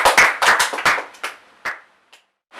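A small group of children claps in a classroom, a quick burst of sharp, close hand claps that thins into a few scattered final claps before falling silent.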